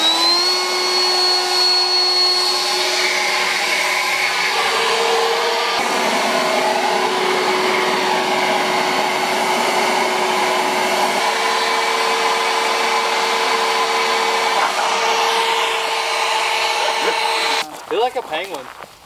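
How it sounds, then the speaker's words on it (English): A crowd of leaf blowers runs at once, producing a loud continuous whining roar with several steady pitched tones that shift over time, then cuts off abruptly near the end. "just buy a 100 leaf blower, set up a contraption"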